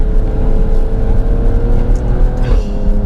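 An Alfa Romeo Stelvio drives along, a loud, steady engine hum and road rumble heard from inside the car, with a slight rise in pitch near the end.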